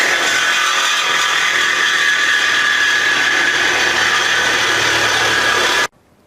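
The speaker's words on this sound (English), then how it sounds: "So I'm going to cut out 7 1/4 off of the head pipe." A power tool cuts through an exhaust header head pipe in one loud, continuous whining, grinding run lasting about six seconds, close by with no talk, then stops abruptly.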